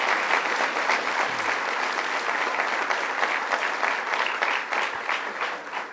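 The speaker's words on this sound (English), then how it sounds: "Let's give her a round of applause." Audience at a state legislation-signing ceremony breaks into loud, sustained applause, a dense, even wash of many hands clapping together for the full length without letting up.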